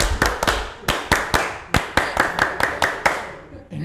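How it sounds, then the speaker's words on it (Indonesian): A tepuk pramuka, the Indonesian scout-style clap pattern, rings out as a series of sharp, close hand claps in a syncopated rhythm, with short grouped bursts and brief pauses, loud and clear with no talking over it. "Tepuk pramuka."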